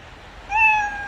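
A single cat meow sound effect plays from a Scratch program, a clear mid-pitched call rising in after a quiet pause and trailing off alone.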